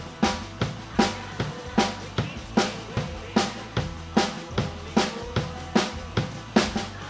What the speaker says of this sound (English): So that'll kind of sound like this with the hi-hat on the upbeats following the snare drum.